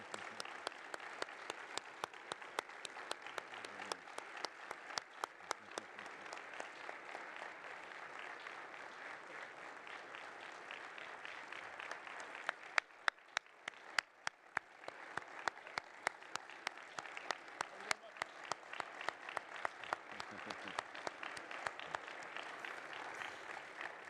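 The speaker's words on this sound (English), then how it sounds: "What a round of applause." Audience applause after an award lecture, a sustained round of clapping lasting over twenty seconds, dense and even with crisp individual claps standing out, briefly swelling midway before settling back to a steady roll.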